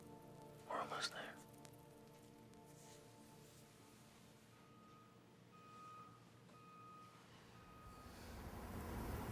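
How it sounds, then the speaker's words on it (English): Trucks backing up give faint, regularly spaced reversing beeps in the distance, low and steady under a soft rain-like hiss, with a brief louder burst early on. "That's the sound of trucks backing up."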